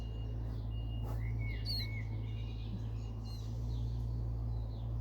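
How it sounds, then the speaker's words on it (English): Small birds chirp outdoors on a sunny day, with brief high tweets scattered over a steady low hum and background noise; the calls are faint and sparse. "And the birds."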